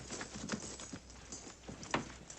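Faint hoofbeats clop irregularly on hard ground, with soft thuds and shuffles as horses move and settle nearby, quiet and somewhat distant.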